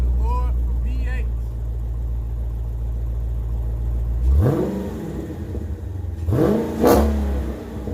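A Dodge Challenger Scat Pack V8 idles with a deep rumble, then is revved twice in sharp rising bursts that fall back, loud and close, with someone speaking over it.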